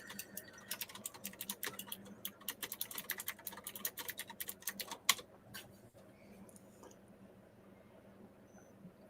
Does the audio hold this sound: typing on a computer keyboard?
yes